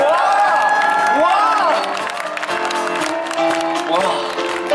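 An outdoor concert audience at the Mir Forest concert, many of them children, claps and cheers after a song, a lively wash of applause and shouts with music tones and a singer's voice ringing through it.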